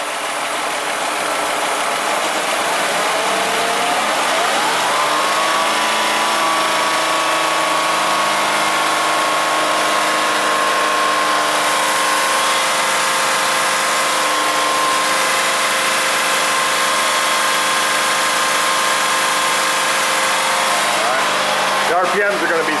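A Ford Escape engine idles with its throttle position signal cut, running at a steady, stuck RPM that holds a constant whine and hum, loud and continuous throughout.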